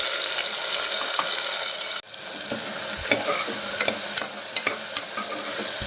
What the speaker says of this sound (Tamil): சின்ன வெங்காயம் வணங்கும் போதே ஒரு 2 தக்காளி சேர்த்திக்கலாம்.